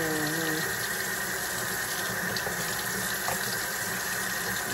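Meat gets a quick rinse under a running kitchen tap while cooking egusi soup, giving a steady, loud, close rush of water into a sink with faint voices underneath.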